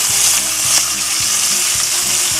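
Meatballs drop into simmering spaghetti sauce, giving a steady, close bubbling sizzle with soft periodic plops and stirring sounds throughout, no talk.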